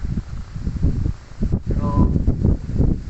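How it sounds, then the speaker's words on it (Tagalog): Strong wind in the Ilocos region buffets the microphone in heavy, uneven gusts, with rustling and a brief tonal whine from a DJI Mini 3 drone partway through. "Ayayay, medyo malakas yung hangin"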